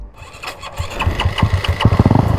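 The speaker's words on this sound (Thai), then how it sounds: "เห็นไหมติดเครื่องง่ายไปเลยไหม" A motorcycle engine with tuned valve springs cranks and catches, then settles into a fast, rhythmic, increasingly loud firing pulse close by, with no talking.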